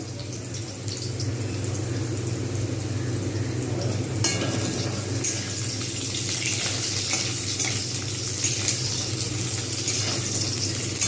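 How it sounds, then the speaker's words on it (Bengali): Potatoes frying in hot oil with whole cumin seeds, a steady, loud, continuous sizzle close up with occasional stirring clatter and a louder burst of crackling partway through. "এখন গোটা জিরে দিয়ে আলুটা ভাজছি"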